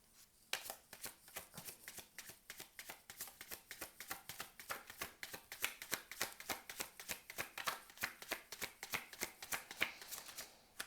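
A deck of cards shuffled for a tarot-style reading: a long, even run of crisp, close card flicks and slaps repeating steadily, with no speech.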